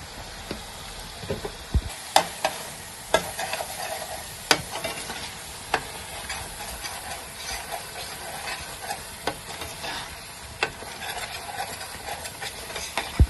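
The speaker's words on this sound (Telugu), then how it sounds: "ఇలా నూనె పైకి తేలే వరకు వేపుకోవాలి" Chili powder and spices frying in oil for a grass-fish curry, a steady close sizzle with repeated sharp scrapes and clicks from stirring throughout, no voices.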